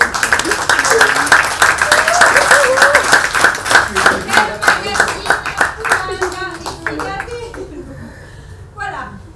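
An audience at a book talk claps in strong, rhythmic unison that gradually slows and fades, with scattered voices, chuckles and a voice mixed in, ending in a few isolated claps.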